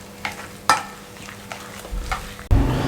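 Spice masala with turmeric powder being mixed for Hyderabadi stuffed eggplant, heard as scattered soft scrapes and taps of a utensil in a bowl, close, ending in a louder scraping burst near the end.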